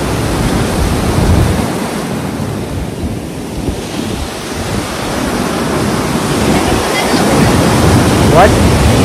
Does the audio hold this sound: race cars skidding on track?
no